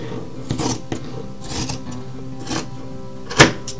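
Scissors snip through T-shirt fabric in several separate cuts, crisp close-up crunches spaced irregularly over quiet background rustle.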